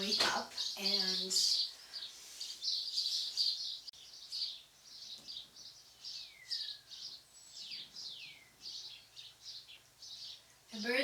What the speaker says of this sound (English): the birds are so loud.